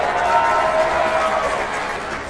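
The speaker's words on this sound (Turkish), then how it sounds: "Alkışlıyoruz." A short burst of dense applause and crowd noise greets the announcement of a tennis cup winner, a steady wash of clapping at moderate loudness with no pause.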